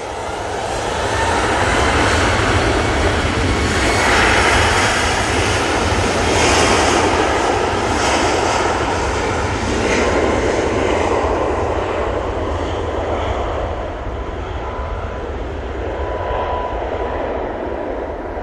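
An EasyJet airliner departs Manchester Airport bound for Lanzarote, its engines a steady, loud roar that holds for the whole stretch and eases slightly toward the end, with no voices over it.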